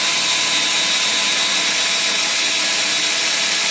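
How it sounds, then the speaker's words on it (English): An electric drill bores out a steel pin from a vehicle steering joint, a steady, loud, continuous grinding whine that holds unbroken throughout with no talking. "use a drill that's a lot smaller than the original pin"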